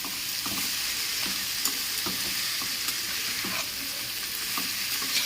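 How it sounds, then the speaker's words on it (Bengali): Food being sautéed and stirred in a frying pan: a constant loud sizzle with regular soft scrapes of the spatula throughout, no voices. "ভালো করে কষিয়ে নিচ্ছি।"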